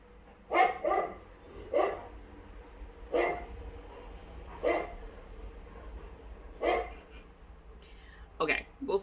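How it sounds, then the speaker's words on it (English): Neighbor dogs barking loudly in repeated single and double barks spaced a second or two apart, close and prominent, with a final quick burst of yips near the end. "the neighbor dogs came out, and they have to say hello in the loudest"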